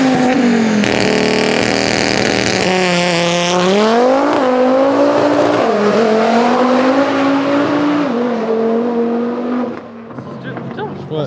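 A car launches on a drag run, its engine revving hard and climbing in pitch through several gear changes, loud and close the whole way before easing off near the end.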